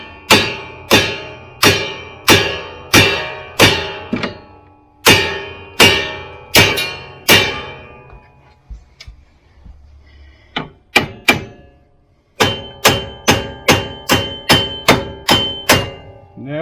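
Loud, sharp hammer blows strike a CFMOTO ZForce front control arm in rapid, evenly spaced runs, pausing midway for a few scattered knocks before another quick series of hits.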